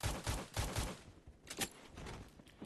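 Rapid bursts of gunfire in the online shooter Phantom Forces, a quick series of loud close shots followed by sharper cracks and a steady game background, with no talk.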